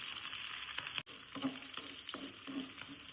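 Green chilies and garlic stirred and fried in hot oil for an onion curry, giving a steady close sizzle with occasional scraping stirs and one brief cut in the sound.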